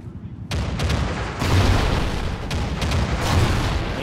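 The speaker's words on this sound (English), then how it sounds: "That was a lot of rockets coming at me." Rockets from a rocket launcher explode in Call of Duty: Ghosts, a rapid series of loud booms and blasts piling on one another across the clip.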